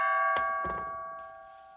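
A hollow 14-inch Ford F150 driveshaft with holes in it, struck once and ringing like a bell with a sustained metallic tone that slowly fades, a couple of soft knocks near the start.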